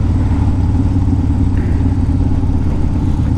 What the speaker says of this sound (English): This Harley engine, this twin cam motor, is known to go a long ways.